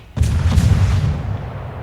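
A warship's guns fire at a cruiser during a naval battle game, one loud, deep boom with a quick attack that rolls and decays over about a second and a half.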